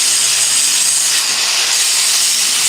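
An abrasive cut-off wheel slices through metal and throws sparks, giving a steady, loud, bright hiss that holds unbroken from start to finish with no pauses.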